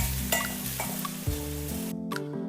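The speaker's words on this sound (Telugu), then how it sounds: "ఇవి కూడా కొంచెం సాఫ్ట్ అయ్యేంత వరకు ఫ్రై చేసి పెట్టుకుందాం" Garlic fries in oil in a pan for a stuffed ridge gourd masala curry, giving a steady close sizzle with occasional stirring scrapes, all under background music.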